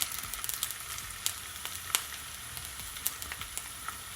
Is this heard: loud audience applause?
no